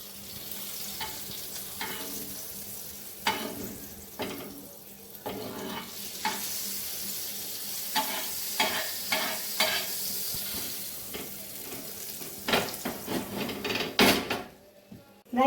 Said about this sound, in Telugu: బ్రౌన్ కలర్ వచ్చే వరకు రోస్ట్ చేసుకోండి మంచిగా